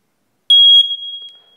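A Kidde smoke alarm sounds one loud, piercing electronic test beep of about a third of a second, which trails off into a fading ring in a quiet room.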